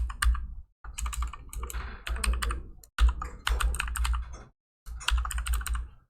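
Keys clatter on a computer keyboard as a wall type name is typed in Revit, in quick close bursts of clicks separated by short pauses.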